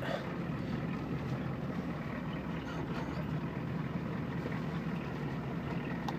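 A Toyota engine runs steadily after a cold start, giving a continuous low rumble with a rough broadband wash over it, close to the microphone and unbroken throughout.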